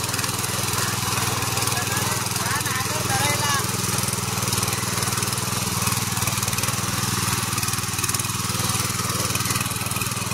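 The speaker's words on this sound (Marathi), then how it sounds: "आज शेतात ट्रॅक्टर पावर टिलर चालवतो." A mini power tiller's engine runs continuously in a field, a loud steady mechanical drone that holds even without pause.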